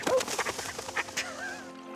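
Rescued ducks released by a river in the Norfolk countryside give a quick run of honking, quacking calls, close and fairly loud, tapering off into quieter background.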